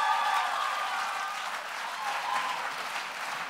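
A poetry slam audience applauds a poet after her score is read, a broad, even wash of many hands clapping steadily from start to finish at moderate volume.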